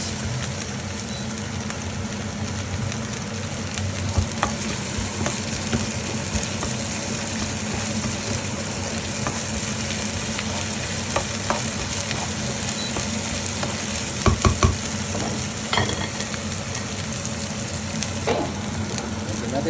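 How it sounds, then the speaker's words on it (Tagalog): Garlic and onion sauté in hot oil for chicken pochero, a loud continuous sizzle close by with occasional clinks and stirring scrapes. "Magigisa na tayo. Yan. Bawang at sibuyas."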